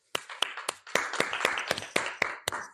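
An audience at a talk claps in loose unison, giving about ten sharp, evenly spaced claps with a little room echo after each.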